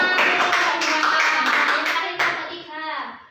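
Classroom of children clapping in a microteaching session, a burst of sharp rhythmic claps that fades out, with a voice audible toward the end.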